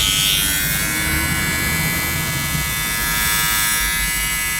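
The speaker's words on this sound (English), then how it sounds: "So for me, this is a home use hair trimmer." A Kemei KM 1690 electric hair trimmer runs nearby, a loud, steady motor buzz that holds unbroken from start to finish.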